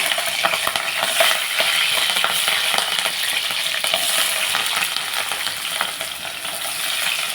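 Green chillies fry in hot oil for a flat bean curry, giving a loud, continuous crackling sizzle that holds steady throughout, close up with faint stirring clicks and no talking.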